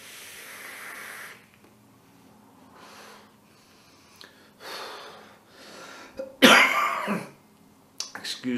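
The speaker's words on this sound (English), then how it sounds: "Excuse the cough" A man coughs after vaping a fresh homemade e-liquid with nicotine, several harsh, close coughs and throat clearing coming in bursts, separated by exhaled breaths and quieter gaps.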